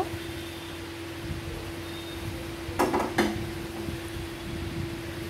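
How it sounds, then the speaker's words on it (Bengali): Non-stick wok set down on a lit gas stove in a home kitchen, one brief metallic clunk and scrape midway over a steady low hum and hiss, with no talking. "এবার ননস্টিকের কড়াইটা আমি বসিয়ে দেব।"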